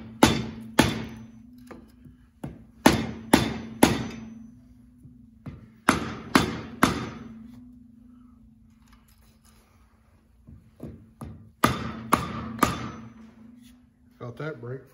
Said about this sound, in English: rubber mallet setting on the piston that will absorb the hard shock and still give me, sit that in there, a good shock there.